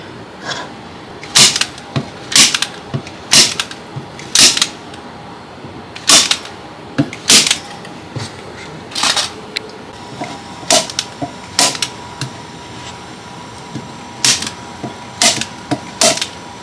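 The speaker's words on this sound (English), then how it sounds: "So we're gonna staple it here." Staple gun fastening fabric for a handmade hoodie, a series of loud, sharp percussive snaps coming singly and in pairs at irregular intervals over a quiet room background.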